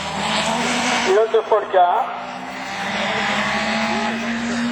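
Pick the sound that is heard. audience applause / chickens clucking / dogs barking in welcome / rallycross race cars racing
rallycross race cars racing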